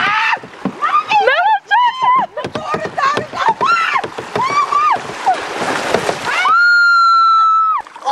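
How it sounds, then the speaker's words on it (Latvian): Oars work a small rowboat through water, with faint splashing and sloshing nearly buried under several people shouting and calling out excitedly close by. "Airē, sieva, airē!"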